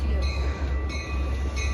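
A train rolls past on railroad tracks outdoors, a steady loud rumble with rail squeal and clattering wheels throughout, close by and continuous.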